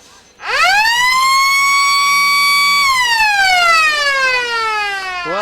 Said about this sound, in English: you might have heard the siren go, and that is half-time at Kelly Park